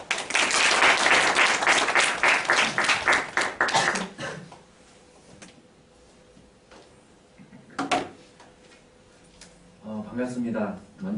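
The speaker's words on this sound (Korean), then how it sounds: "박수로 모시겠습니다" A church congregation applauds to welcome a pastor, with loud clapping for about four seconds that then stops abruptly, leaving quiet room sounds, a thump and a brief voice.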